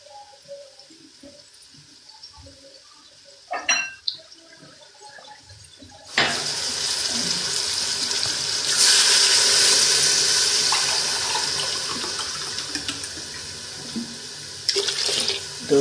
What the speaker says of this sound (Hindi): मैं इसके अंदर डालूंगी 2 गिलास पानी